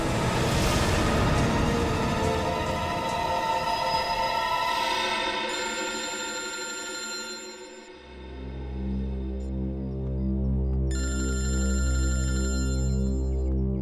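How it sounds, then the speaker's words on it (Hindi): A telephone rings loudly and alone, its electronic ringtone tones repeating in bursts and shifting pitch partway through, with no speech over it. "सर का फोन।"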